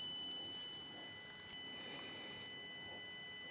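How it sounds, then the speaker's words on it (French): Arduino security alarm buzzer sounding a continuous high-pitched electronic tone, steady and fairly loud, with a faint click and some soft background noise. "Le buzzer commence à sonner."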